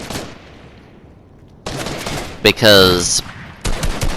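Assault rifle gunfire in the Fortnite video game, a short cluster of sharp shots under game effects, with a brief spoken word before the shooting.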